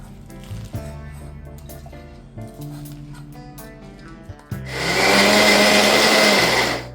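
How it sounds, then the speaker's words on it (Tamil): A mixer grinder whirs loudly and steadily while grinding coarse banana flower vadai batter, starting abruptly partway through after a stretch of quieter kitchen sounds with tonal background hum. "இப்போ வந்து வாழைப்பூவை வந்து லைட்டாக ஒரு சுற்றி சுற்றி அதில் போட்டுக்கலாம்"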